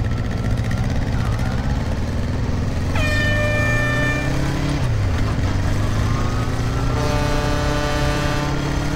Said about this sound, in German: brauchst du die Hupen?